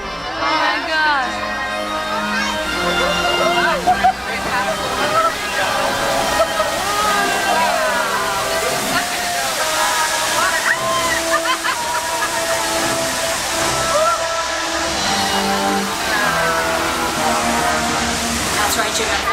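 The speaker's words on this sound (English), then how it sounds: "There's some water coming in." On a studio tour ride at Universal Studios Hollywood, water rushes and sloshes in a continuous loud roar, with music and excited voices over it.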